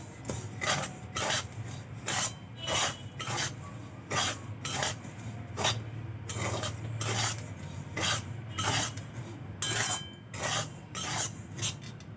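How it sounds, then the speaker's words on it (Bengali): Semolina mixed with sugar and salt in a bowl, stirred with steady, rhythmic gritty scraping strokes that repeat about once a second, close and fairly loud with no talking. "সুজির সাথে চিনি আর লবণ ভালো করে মিশিয়ে নেব।"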